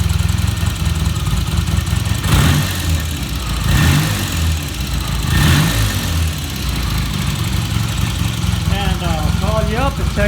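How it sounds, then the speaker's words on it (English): A vintage British motorcycle engine runs steadily at idle and is blipped up in three short revs before settling back, loud and close, with a low mechanical rumble throughout. "I'll give it a little rev here, and then I'll close it down"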